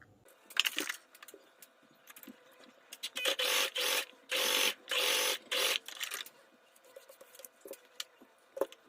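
A sewing machine stitches a fine pintuck on the neckline of a black dress, heard as a few short, close bursts of whirring that run in a tight cluster between brief pauses, with no talking.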